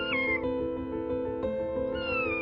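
A cat gives a sustained, drawn-out meow close by, steady and fairly loud with no talk over it.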